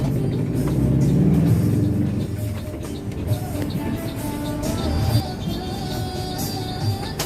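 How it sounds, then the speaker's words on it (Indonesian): A bus pulls away from Terminal Pasar Lembang in Ciledug. A loud low engine rumble swells and then eases, with a rising tonal whine, brief knocks and a faint voice in the background. "Jam 5:55 bus meninggalkan Terminal Pasar Lembang Ciledug."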